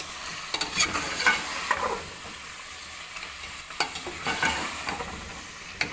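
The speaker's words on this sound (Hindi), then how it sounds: "साथ ही इमली भी शामिल कर देंगे इसके अंदर। इसे अच्छे से मिक्स करेंगे।" Biryani masala with tomatoes, garam masala, dried coriander, salt, turmeric and tamarind is stirred in a hot pan. A soft, steady sizzle runs under repeated close spoon scrapes and taps.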